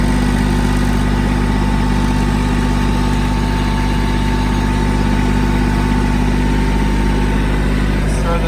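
A Porsche 944 engine running as the car is driven, a loud, steady, unbroken drone close by for the whole stretch.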